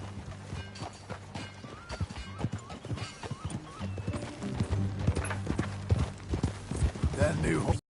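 Horse hooves clip-clop steadily in the video game Red Dead Redemption 2, close and rhythmic, with music and occasional speech beneath.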